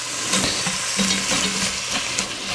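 Ground hamburger meat browns in a pan with a steady, close hiss of frying. Occasional stirring scrapes break through the sizzle, and no one talks.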